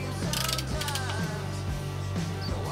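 Ratchet clicking as a bolt is tightened to 15 foot-pounds on a Harley engine during a rebuild, a close, rhythmic series of mechanical clicks in short bursts with no talk.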